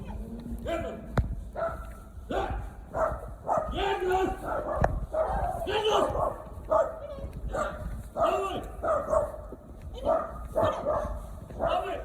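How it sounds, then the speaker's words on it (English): Dogs bark and yip repeatedly in short excited bursts, fairly close, with a person's voice mixed in among them. "Doggy argument here."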